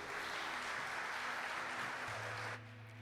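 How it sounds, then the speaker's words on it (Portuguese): A church congregation applauds during a Portuguese-language service, a dense, steady wash of clapping that cuts off abruptly near the end, leaving a low hum. "dá um aplauso por favor a Ele."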